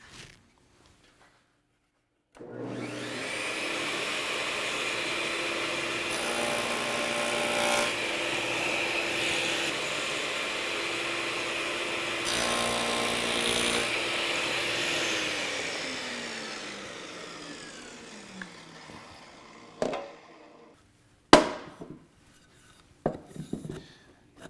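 A table saw cuts a centered tenon in a wooden board: the motor spins up, a steady roaring cut runs for about fifteen seconds, then the blade winds down, followed by a few knocks and clatters.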